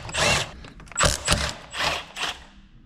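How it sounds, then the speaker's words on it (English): Allen wrench undoing 5 mm bolts on a ZF5 manual transmission from a 7.3 IDI during teardown, giving four or five close, loud bursts of metallic ratcheting clicks separated by short pauses. "we're going to come in with our Allen and undo these, and that's a 5 mil"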